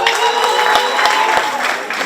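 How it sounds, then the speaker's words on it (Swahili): A crowd at a women's cooperative awards ceremony claps in steady, dense applause that fills the moment, close and fairly loud. "Makofi kwa wao."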